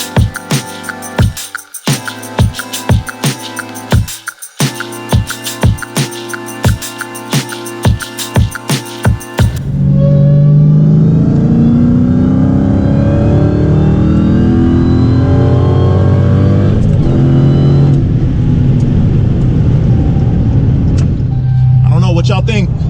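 A modified Dodge Hellcat with an aftermarket intake and exhaust, heard loud and close: rapid rhythmic engine pulses for several seconds, then a sustained roaring rev that climbs in pitch before fading, with a voice briefly audible.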